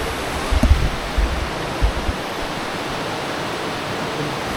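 Constant rushing water from a small river pours over rocks in the Partnachklamm gorge, Bavaria, a broad steady roar with a few low thumps near the start.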